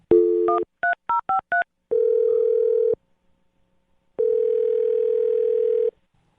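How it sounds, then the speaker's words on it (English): Telephone tones are heard: a quick run of touch-tone dialing beeps, then two long steady tones separated by a pause, loud and clean with no talking. "All right, Andy, I'm going to dial her phone number right now."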